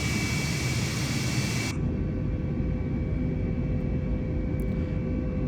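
Airbus A320neo jet engines drone steadily during a climb after takeoff in Microsoft Flight Simulator 2020, a broad rumbling roar whose upper hiss drops away abruptly partway through, leaving a lower, muffled hum.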